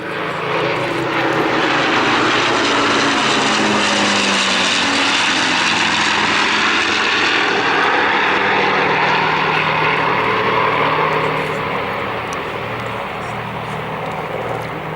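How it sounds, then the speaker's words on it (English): Propeller-driven Lancaster bomber, Spitfire and Hurricane of the Battle of Britain Memorial Flight pass overhead in formation at an air display at RAF Cosford, a loud, sustained piston-engine roar that swells and slowly fades. "So here they are, the Lancaster, the Spitfire and the Hurricane."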